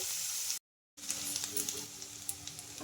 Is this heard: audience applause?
no